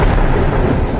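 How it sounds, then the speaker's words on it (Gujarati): Heavy monsoon downpour in urban Ahmedabad, with a loud continuous roar of rain and deep rumbling thunder filling the whole moment. "અમદાવાદના શહેરી વિસ્તારમાં ધોધમાર વરસાદ."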